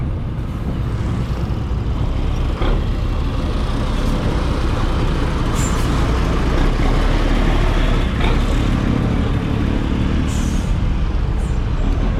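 Heavy city road traffic in Iloilo City, with trucks and buses rumbling steadily close by, a constant loud engine drone broken by occasional hissing air brakes and no talk.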